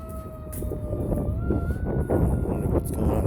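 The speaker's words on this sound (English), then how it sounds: "We have a siren coming up." A fire truck siren wailing with slowly sliding tones, drawing closer over street traffic rumble on a morning drive, while someone talks briefly over it.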